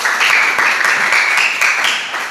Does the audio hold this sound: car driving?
no